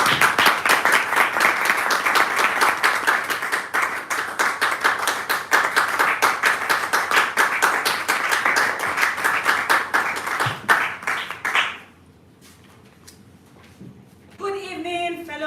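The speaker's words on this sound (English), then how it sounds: "Please a round of applause for her." A Toastmasters club audience applauds, with loud, sustained, even clapping for about twelve seconds that stops abruptly, followed by quiet and then a voice beginning to speak.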